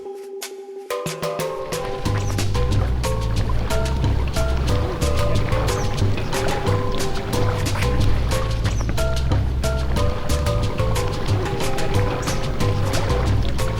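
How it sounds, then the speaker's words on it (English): An amphibious hobby car, the B612, cruising on open water, its motor droning steadily with a low rumble and constant splashing and rushing water close by, continuous throughout after a short quieter start. "I'm in an amphibious hobby car and I'm on the water"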